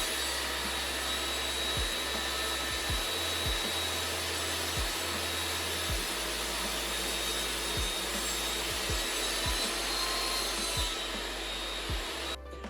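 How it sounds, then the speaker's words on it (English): A table saw cuts a chamfer along the edge of a wooden picture-frame keepsake box, a steady, loud whirring roar with a low hum that runs unbroken for about twelve seconds and drops off right at the end. "I'll do that next on the table saw."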